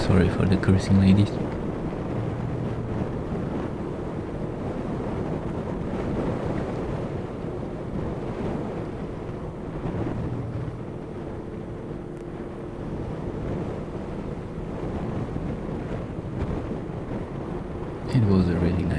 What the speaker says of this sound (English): Strong side wind. We don't like the wind.